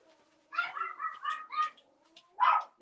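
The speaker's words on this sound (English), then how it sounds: "my neighbor with her dog, every time she walks, my dogs go nuts" Pet dogs bark indoors as a neighbor walks her dog outside, a quick run of several sharp yips followed by a pause and one more loud bark, fairly close by.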